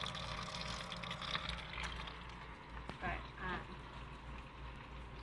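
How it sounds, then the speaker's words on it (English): Small waterfalls trickle steadily inside a paludarium, a continuous soft wash of running water under occasional brief speech. "so there's some waterfalls"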